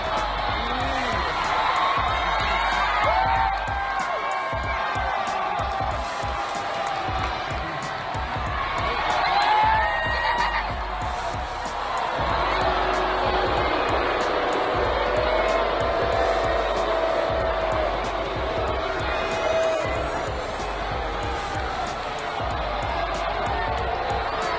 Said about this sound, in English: As Roman backed off, the crowd erupted